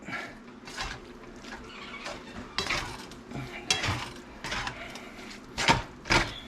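Taco sauce being mixed with a utensil in an already hot pan, irregular scraping and clinking of metal against cookware in short bursts, fairly close and moderately quiet, with no talk.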